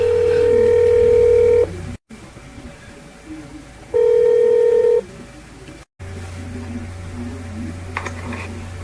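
Repeated ringback tone of an outgoing phone call, in steady long beeps separated by short gaps, with faint background noise between them.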